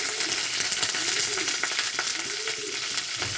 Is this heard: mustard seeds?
yes